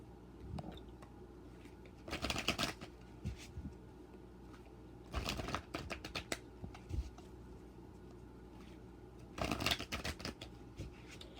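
Tarot cards being shuffled and drawn, three quick riffling bursts of papery flutter spaced a few seconds apart, with soft taps and handling noises between them, close but quiet with no talking.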